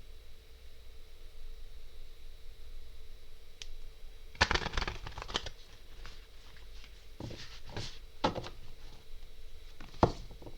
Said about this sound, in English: Let's just do two more shuffles.